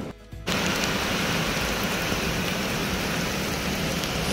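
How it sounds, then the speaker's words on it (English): Heavy monsoon rain pours down near Sindhudurg railway station on the Konkan coast, starting abruptly after a brief quiet moment and then hissing densely and steadily at an even, loud level. "Started raining heavily."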